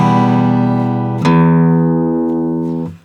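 An acoustic guitar plays the short opening intro of a song, with ringing sustained chords, a fresh strum about midway, and the notes fading out at the end.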